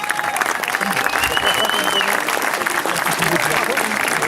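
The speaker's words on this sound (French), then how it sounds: "on peut les applaudir très très fort" Evening ceremony crowd at an FSGT national event applauding a brass band, sustained loud clapping, with some voices and a whistle-like tone mixed in.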